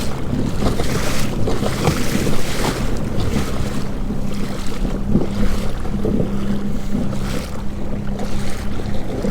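Wind and waves surround an Old Town Sportsman 106 kayak powered by a Minn Kota motor, a loud, continuous roar of gusting wind buffeting the microphone with splashing water beneath, rising and falling in uneven surges.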